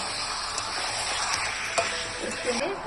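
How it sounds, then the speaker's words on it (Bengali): Mutton pieces stirred and fried with browned onion and garlic paste in a pan, giving a steady close sizzle with occasional scraping clinks of a spoon against the pot. "মাটন দিয়ে এবার নাড়াচাড়া করে কষিয়ে নেব ভালো করে"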